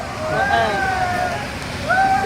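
Young men splashing and slapping water while playing in a river or pool, with sloshing and gurgling under overlapping voices and shouts nearby.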